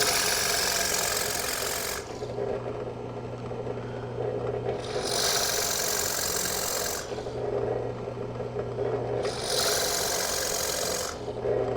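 A drill-mounted plug cutter bores 3/8 inch walnut plugs, giving three long, loud bursts of high, hissing cutting, each with a steady low motor whine beneath. Quieter gaps separate the bursts.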